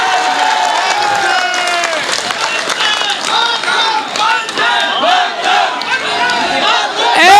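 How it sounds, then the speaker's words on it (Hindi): A large crowd cheering and shouting in honour of Delhi Police, with loud, dense overlapping voices, whistles and some clapping throughout, close and continuous. "एक बार दिल्ली पुलिस के सम्मान में तालियां उठे आपकी"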